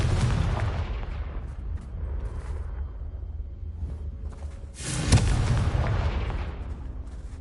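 Explosive Confringo spell blasts in the Hogwarts Legacy video game, loud booming bursts with a rumbling tail and a sharp, heavy blast near the middle, with no talk.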